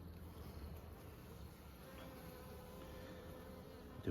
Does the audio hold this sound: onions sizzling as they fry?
no